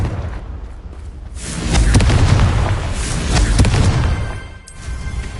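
The Confringo blasting spell goes off in the wizarding game Hogwarts Legacy, a loud booming explosion with crackling bursts that swells, rolls on, and fades.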